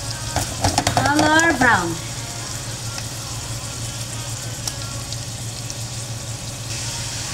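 Chicken and beef frying for sisig, a steady, moderately loud sizzle running throughout under a low hum, while a person speaks briefly near the start.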